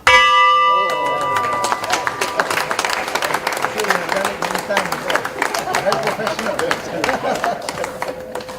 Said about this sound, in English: Maria Fernanda Garza, attended the bell-ringing ceremony of the Colombo Stock Exchange today.